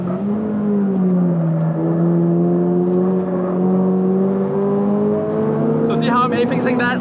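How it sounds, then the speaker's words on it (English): A 2022 Subaru BRZ Limited on a race track, its engine held on throttle with a steady, loud drone that rises slowly in pitch. Near the end, a higher whine and chatter come in. "We'll put some B-roll right now of the throttle."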